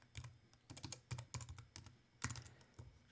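Fingers type on a computer keyboard in short clustered bursts of crisp clicks with brief pauses between them, close and fairly quiet.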